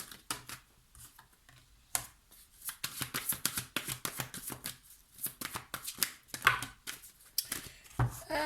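Tarot-style reading cards are shuffled and handled close by, a run of quick papery riffles and taps in irregular bursts with no talk.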